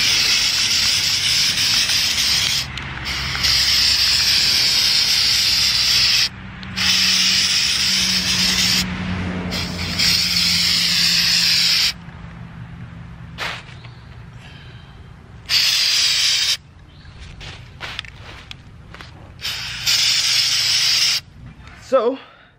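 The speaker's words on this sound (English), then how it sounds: "Alright, so now we're about to paint the windshield wipers." A spray can hisses in repeated bursts while car windshield wipers are painted. Several long sprays come first, then shorter passes separated by pauses, all loud and close.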